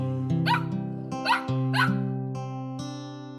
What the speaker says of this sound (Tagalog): Ako ay mayroong alagang aso na maganda